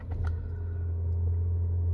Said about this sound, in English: We'll just start the vehicle up.